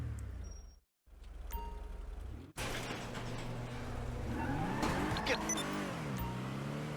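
Annis Minimus sedan, modeled on a Nissan Altima, pulls away in GTA 5 with a steady low engine drone that builds as it accelerates, with the player's voice talking over it.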